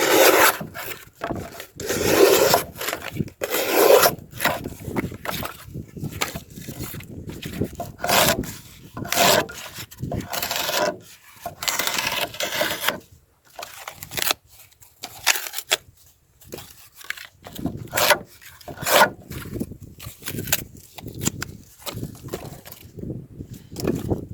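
A Gerber Fullback knife with a hollow grind slicing and shaving wood, a long run of loud, close rasping strokes with short pauses between cuts and no talking.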